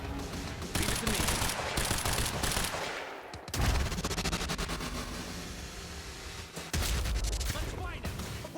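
Sustained automatic gunfire in the video game Quantum Break, dense and loud bursts rattling continuously with brief breaks, mixed with game sounds and voices.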